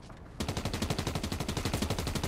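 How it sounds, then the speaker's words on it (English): Rapid automatic gunfire in the Fortnite video game, a loud, even stream of about twenty evenly spaced shots starting abruptly and continuing to the end, with no talking. "why do I hear a ray gun going off?"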